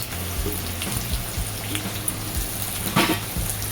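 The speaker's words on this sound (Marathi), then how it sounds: "कांदा जरा गुळदव रंगावर आपण छान परतून घेऊया" Onion fries in a pan with red chilli, giving a steady, close sizzle with occasional stirring clinks and scrapes.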